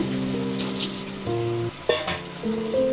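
Cut potatoes drop into spice paste already frying in oil for a shrimp dish, bringing a steady loud sizzle with stirring clinks and scrapes running throughout.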